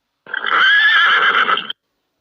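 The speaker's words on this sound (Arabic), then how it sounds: "مهر." A pony neighs once in a loud, close whinny lasting about a second and a half, alone with no other sound around it.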